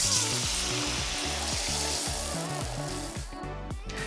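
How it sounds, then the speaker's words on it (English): Potatoes fry in olive oil and butter in a sauté pan, giving a loud, close, continuous sizzle with crackling spatter and a rhythmic scraping stir running throughout. "add to the sauté pan with a little olive oil, butter and salt"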